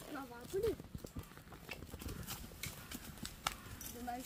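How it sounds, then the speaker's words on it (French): Horse hooves clip-clop in a rhythmic run in an equestrian game or cartoon scene, with a brief whinny and voices talking over the hoofbeats. "Allez, file le grand galop."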